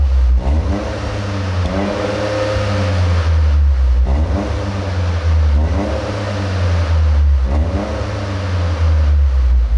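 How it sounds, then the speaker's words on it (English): A 2023 Toyota GR Corolla three-cylinder hatchback engine revs up and settles back repeatedly, about three loud rising-and-falling revs heard close up with a steady idle underneath. "Take a listen to a rev or two from the GR Corolla."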